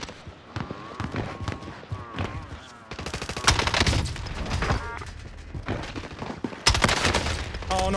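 Call of Duty: Warzone firefight with bursts of rapid automatic gunfire and scattered single shots, loud and close, intensifying in the second half.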